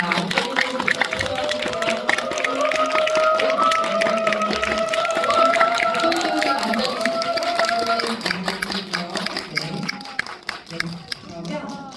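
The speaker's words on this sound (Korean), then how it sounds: "뜨거운 박수로 맞아주세요" A crowd of moviegoers at a film screening and guest talk greets guests arriving on stage with steady applause and clapping lasting several seconds, mixed with voices and background music.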